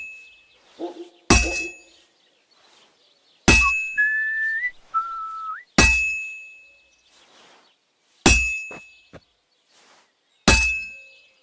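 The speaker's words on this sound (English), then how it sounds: "Now take the hammer and try hitting it a few times." A blacksmith hammers a sword on an anvil in the medieval game Kingdom Come Deliverance II: five loud, sharp metallic clangs with a bright ringing tail, evenly spaced, with short whistly tones between strikes.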